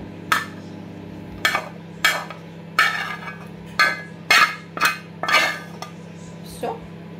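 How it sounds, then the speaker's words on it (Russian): Repeated clattering scrapes and clinks of a utensil against a metal saucepan as pasta is moved into it, about nine sharp bursts with short pauses, over a steady low hum. "макароны я переложу вот сюда, в кастрюльку"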